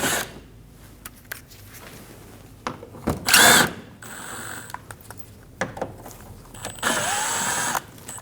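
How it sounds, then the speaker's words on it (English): A tool with a T25 bit removes bumper screws on a 2012-2022 Volkswagen Passat, heard as brief whirring bursts and mechanical clicks amid handling noises, close by. "we're going to use a T25 bit and we're going to remove the 3 screws"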